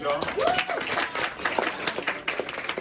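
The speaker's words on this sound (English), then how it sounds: "Give a round of applause" An audience at a community safety meeting in a conference room gives a round of applause, a busy spread of claps under a voice speaking over it.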